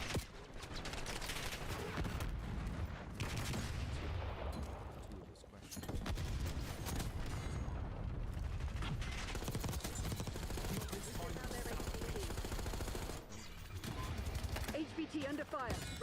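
Sustained gunfire from a PC video game firefight over a dense battle mix of shots and effects, steady and loud throughout with a brief dip midway, while a radio-style voice talks over it.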